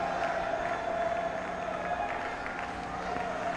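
At a West Indies versus India cricket Test, the crowd applauds and cheers Virat Kohli's century in a steady, distant wash of clapping and cheering, with a voice talking over it.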